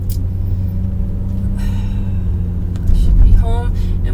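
A car pulling away from a stop sign, heard from inside as a steady low engine and road rumble that swells briefly louder toward the end, with a faint chirp and no talking.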